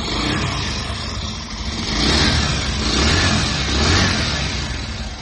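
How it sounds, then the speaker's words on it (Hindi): The engine of a 2020 Bajaj Pulsar 150 Twin Disk BS6 motorcycle runs close up, its loud, throaty roar rising in two revving swells over a continuous idle. "और इंजन के पास आप साउंड सुन सकते हैं"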